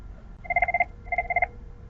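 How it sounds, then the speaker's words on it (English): A telephone dials ten digits as an outside caller tries to reach an internal user, giving crisp DTMF tone beeps in two quick clusters, loud and clean against quiet background, with no talking. "an outside caller trying to reach our internal user, dialing 10 digits"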